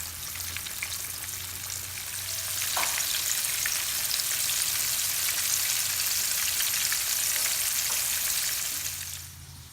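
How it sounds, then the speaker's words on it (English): Steady, close sizzling and crackling of pork chops browning in a hot skillet, continuous throughout with a brief louder pop partway through. "I'm just gonna brown these on both sides to get it a nice coat"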